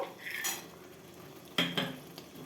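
Cashews drop into a metal pan of simmering tomato and grape chutney, with a few soft clinks and a spoon scraping and stirring, close and quiet.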